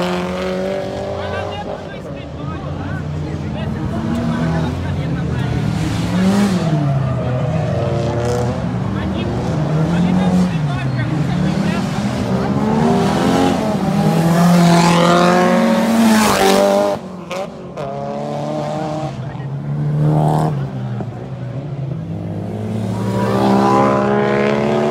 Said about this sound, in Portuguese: os carros passam pertinho aqui